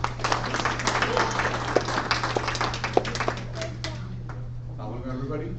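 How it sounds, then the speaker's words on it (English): An audience welcoming a speaker with brisk, close clapping over a steady electrical hum; the applause thins to a few scattered claps near the end as talk starts. "So give a round of applause to Zaki"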